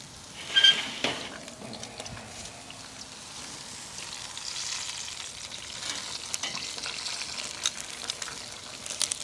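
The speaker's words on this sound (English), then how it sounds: "So just gonna start searing them off now" Dry-aged New York strip steaks sear over a Weber kettle grill, a steady close sizzle and crackle of fat that runs throughout, opening with a brief clink of metal.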